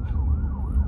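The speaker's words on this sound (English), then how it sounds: "Sorry, y'all, that's an ambulance." An ambulance siren wails outside, its pitch sweeping up and down over heavy low traffic rumble, loud and close in a short burst.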